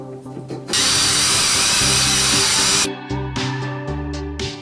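A handheld power drill bores holes into the metal door window channel of a Porsche 914, with one loud steady whine lasting about two seconds, followed by quieter clicks and handling noise.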